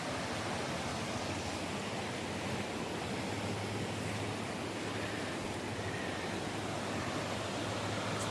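Steady, dense rushing of the Beaver River along the Superior Hiking Trail, continuous and fairly loud throughout with no voices.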